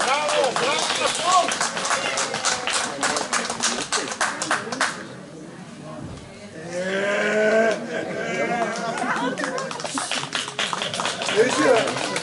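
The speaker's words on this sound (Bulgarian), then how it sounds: "Аплодисменти." Applause from an audience at a village knitting day festival in Krum, Bulgaria, dense clapping that swells and fades, with a loud voice speaking over the crowd.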